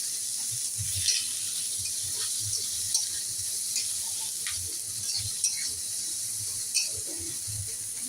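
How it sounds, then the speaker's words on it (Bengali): Garlic, ginger, green chilli and chopped onion frying in a hot pan for veg momo filling, a steady close sizzle with occasional stirring scrapes and soft clinks throughout. "রসুন দিয়ে দিচ্ছি, আদাও দিয়ে দিচ্ছি ও পেঁয়াজ কুচি দিয়ে একটু ভেজে নিচ্ছি"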